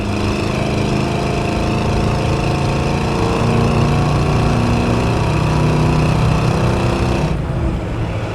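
A restored 1968 Chevrolet C10 pickup's 350 V8 with a 700R4 transmission runs under throttle on a test drive, a loud, steady engine drone heard close from inside the cab that drops off slightly near the end.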